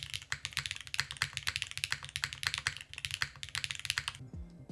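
Wraith 60 mechanical keyboard with Keygeek Explosion switches, fitted with a thin foam sheet at the bottom, typed on rapidly, a dense close clatter of crisp keystrokes that stops just before the end.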